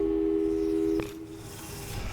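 Phone busy signal in the Portal 2 video game, a loud steady tone that cuts off abruptly after about a second, leaving quieter background sound.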